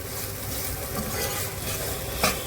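Chicken keema being stir-fried in a pan, a steady close-up sizzle with continuous stirring and one sharper scrape near the end.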